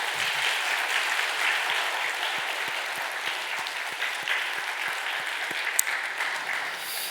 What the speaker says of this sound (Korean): 응원과 사랑과 격려와 칭찬을 담고 힘차게 박수.